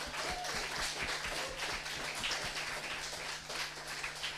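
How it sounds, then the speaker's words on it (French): Audience at a church gathering applauding and cheering for Patrick's friends, a steady dense wash of clapping with rhythmic beats, fairly distant and sustained throughout. "Est-ce qu'on peut acclamer pour les amis de Patrick?"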